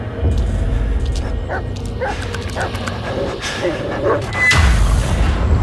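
A dog barks and yips in the Blair Witch video game, short repeated calls mixed into dense, loud game ambience with low rumbling booms and a heavier surge near the end.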